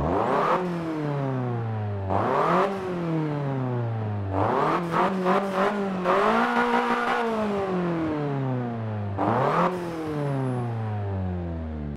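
A Korean car with a manual gearbox on the Virginia circuit in Forza Motorsport 7 revs hard and accelerates through repeated rising engine sweeps, each dropping at a gear change, loud and throaty with crackles, no voices.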